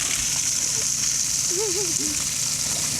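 Water sprays steadily from a garden hose held by a dog in a yard, making a continuous hiss and splatter, with a brief voice calling out over it.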